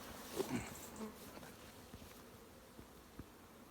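Bees crowd the entrance of a hive on the verge of swarming, a faint busy buzz with individual insects droning past the microphone now and then, quiet and close with no voices.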